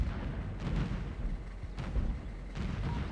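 Artillery fire in the military video game Operation Flashpoint: Dragon Rising, three dull distant booms spaced about a second apart over a steady low rumble.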